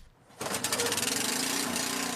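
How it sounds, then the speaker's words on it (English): A generator fires up at a caboose restoration site, catching abruptly after a brief quiet and settling into a steady, close engine drone with a rapid regular pulse. "As Mike Massey fires up the generator"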